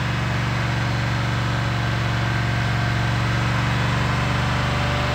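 A hydrogen-powered V8 internal combustion engine holds a steady run at about 2800 RPM, giving a continuous, even low drone with no break for the full stretch and no voices over it.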